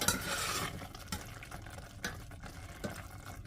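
A spoon stirring ridge gourd milk curry in a pot, a close, quiet wet swishing with a few light scrapes and clinks against the metal.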